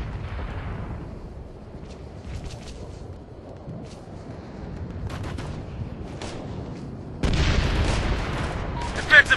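Gunfire in Operation Flashpoint: Red River crackles as scattered distant shots and booms under a low rumble, then grows louder and denser near the end, with voices shouting in between.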